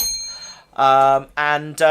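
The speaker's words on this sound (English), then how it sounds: "Failure bell." A comedic failure bell chimes three times in quick succession, each ring bright, metallic and ringing loudly before being cut short, after a faint tonal hum at the start.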